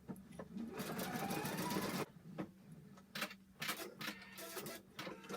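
A sewing machine zigzag stitching ears onto a small stuffed bear's head, with a steady two-second run followed by short stop-start bursts of stitching, close and alone with no talking.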